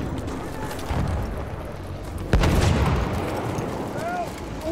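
A grenade detonates in Battlefield 1, one sharp loud blast with a low rumbling tail, set in a steady bed of distant gunfire and battlefield noise, with voices calling out in the game.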